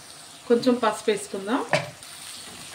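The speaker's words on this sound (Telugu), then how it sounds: "పసుపు వేసుకొని కలిపేసుకుంటున్నా" Ginger-garlic paste sizzles in hot oil as turmeric is stirred in, a spoon scraping and squeaking against the pan in a few quick, close strokes over a soft frying hiss.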